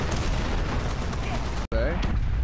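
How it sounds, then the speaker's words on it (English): Enemy tank guns firing on a Jumbo Sherman in the game War Thunder, a dense stretch of battle gunfire and rumble with a brief cut, while a voice talks over it. "We do have a guy shooting at us from both sides at this point."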